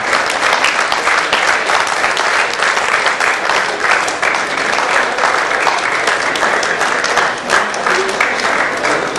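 Sustained, dense applause from an audience at a gala night felicitation, loud and continuous throughout with no break.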